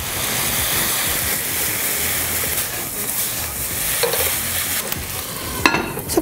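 Stir-frying in a hot pan just after bean sprouts are added, a loud, steady sizzle with scraping stir strokes close up, and a sharper clatter near the end, with no talking.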